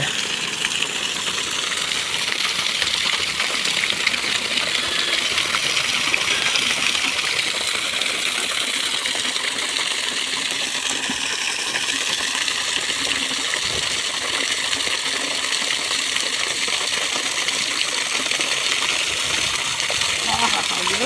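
Water gushing steadily from a motor-pumped pipe with a hole in it, a continuous splashing rush over a low engine hum, with someone talking nearby throughout.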